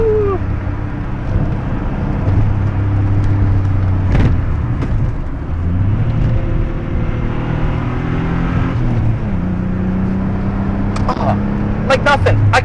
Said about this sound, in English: I love the engine note